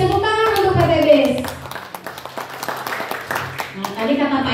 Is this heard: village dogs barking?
no